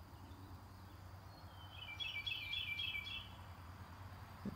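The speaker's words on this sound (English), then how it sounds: "The birds are singing pretty this morning." Birds chirp and tweet in a garden on a summer morning, a short bright burst of song in the middle distance over a quiet outdoor background.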